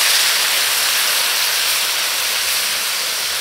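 A loud, steady hiss of steam roars from a hot pot of sizzling pork leg right after water hits it, continuous and close, with no voices.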